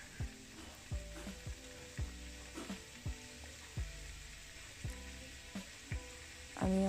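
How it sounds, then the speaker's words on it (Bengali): Vegetables for a Chinese-style curry fry uncovered over medium heat while being stirred constantly, with a steady quiet sizzle and regular scraping strokes of a spatula, roughly one every second. "আমি অনেকক্ষণ লাগিয়ে এটাকে কষিয়ে নিচ্ছি, অনবরত বারবার নাড়াচাড়া করে"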